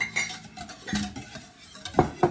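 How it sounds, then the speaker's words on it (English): Sourdough biscotti dough with a quarter cup of avocado oil is stirred in a bowl, with close clinks and scrapes of a utensil knocking against the sides in irregular bursts. "Let me help you mix, okay?"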